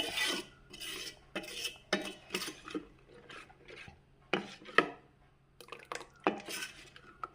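Mustard mango pickle mixed with heated sesame oil, scraped and stirred in a bowl with a spoon in repeated short rasping strokes, close and fairly quiet with pauses between bursts, no talking.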